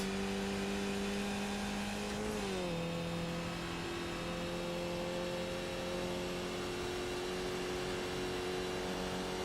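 A race car engine in the Skip Barber racing simulator drones steadily at high revs, pitch dipping briefly after a shift and then holding, loud and continuous with no voices.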